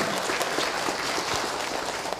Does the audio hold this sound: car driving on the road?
no